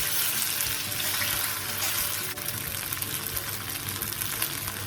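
Pork belly stir-fries in a hot pan with a steady, dense sizzle and crackle and occasional stirring scrapes, close and continuous throughout.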